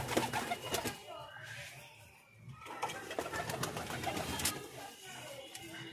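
Indian Lotan pigeons give soft, repeated cooing calls close by, with faint rustling and light wing sounds in between and a brief quieter lull midway.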